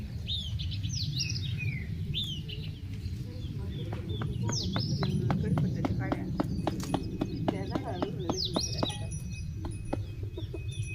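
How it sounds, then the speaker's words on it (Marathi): Birds chirp and sing in a village in the morning, clear high calls repeating over a steady low outdoor rumble, with hoof-like clip-clop knocks and hens clucking in the background. "सकाळी सकाळी पक्ष्यांचा आवाज हिरवीगार झाडे हलताना"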